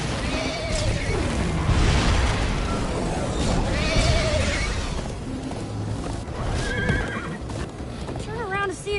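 In Minecraft Story Mode, a horse neighs and whinnies several times over fast clip-clopping hooves, with the galloping continuing steadily amid other game sounds and some talk.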